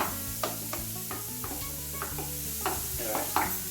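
Grated carrots and onions fry in a pan with a continuous sizzle, stirred repeatedly so regular scraping strokes cut through, over a constant low hum in the background.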